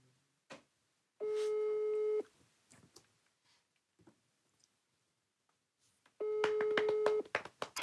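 A telephone ringback tone sounds while a call is being placed, two long steady beeps spaced about four seconds apart, with soft clicks and handling noise between them and no talk.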